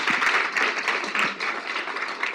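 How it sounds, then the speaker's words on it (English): A conference audience applauds a panel with a dense, steady wash of clapping from many hands that carries on throughout. "warm round of applause for this great panel"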